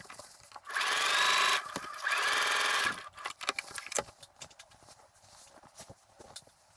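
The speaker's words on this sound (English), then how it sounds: "Begin by stay stitching the neckline at just 1/2 an inch away from the raw edge." A sewing machine runs close by in two steady bursts of about a second each, stay stitching the neckline of a dress, followed by quieter handling clicks.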